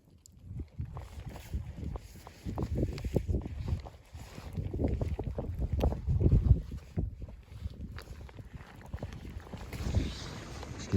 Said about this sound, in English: the wind's kind of picked up a bit